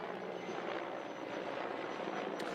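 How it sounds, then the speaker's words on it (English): A Polish helicopter drones overhead in a steady, broadband rotor and engine roar that holds at an even level throughout, with no voices over it. "That is a nice Polish helicopter."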